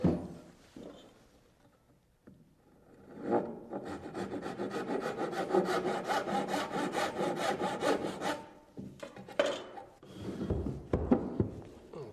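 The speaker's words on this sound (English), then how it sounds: "I have to nick this corner off here so I can get past this edge." A handsaw cuts a corner off a wooden stair riser with fast, steady rasping strokes for several seconds, close and loud, then a few scattered rubbing and knocking sounds as the piece is handled.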